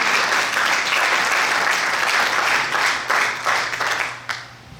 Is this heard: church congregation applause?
yes